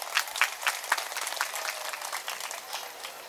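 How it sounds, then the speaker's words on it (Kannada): Audience applause at a school golden jubilee celebration, a thin, steady patter of many hands clapping at moderate distance, with a few louder claps early on. "ಅವರೆಲ್ಲರಿಗೂ ಕೂಡ ಅಂತರಾಳದ ಅಭಿನಂದನೆಯನ್ನು, ಧನ್ಯವಾದವನ್ನು ಸಲ್ಲಿಸಲೇಬೇಕು ನಿಮ್ಮ ಜೋರಾದ ಚಪ್ಪಾಳೆ ಮೂಲಕ."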